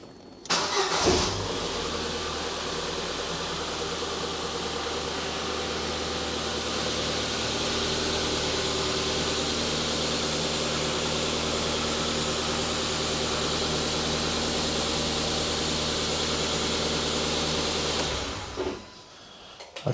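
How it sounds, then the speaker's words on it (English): A 2010 Ford Fiesta 1.2 Zetec petrol engine cranks briefly and catches, then settles into a steady, even idle that holds close and loud for about seventeen seconds before being switched off, with no talking. "Just going to start that up, make sure the oil light goes out, let it tick over for a few moments."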